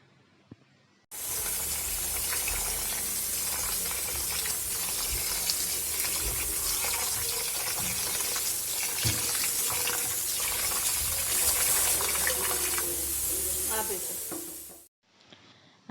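Soaked rice and fenugreek grains for dosa batter are washed in water, with continuous close sloshing, swirling and trickling that starts abruptly and stops just as suddenly about fourteen seconds later.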